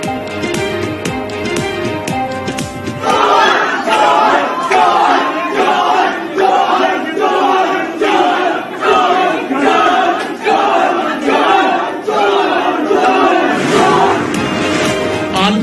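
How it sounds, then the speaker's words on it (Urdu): A group of women in a restaurant chant an accusatory two-word slogan over and over, loud rhythmic crowd shouts in regular bursts that carry from start to finish. "چور چور کے نعرے لگائے تھے"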